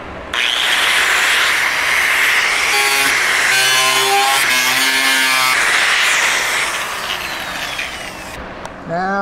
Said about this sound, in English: Wasted a lot of time trying to get that cutoff wheel to cut.